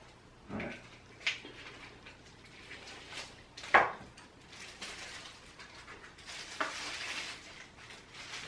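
Quiet, close scraping and swishing as Just for Men jet black beard dye is stirred and mixed, with a few sharper clicks and taps between soft mixing strokes.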